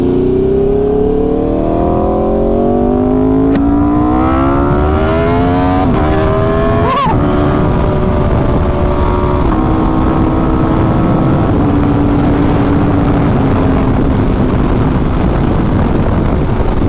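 An Aprilia motorcycle engine revs hard and close, its pitch sweeping up and down through several throttle blips with a sharp burst midway, loud and steady throughout with no voices.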